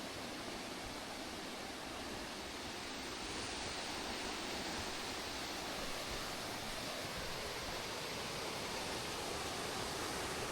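A small waterfall near Gaisalpsee lake in the mountains pours as a steady, broad roar of rushing water, continuous and even, with no voices.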